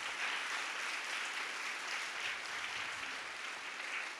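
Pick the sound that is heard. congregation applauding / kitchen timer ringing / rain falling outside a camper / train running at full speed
congregation applauding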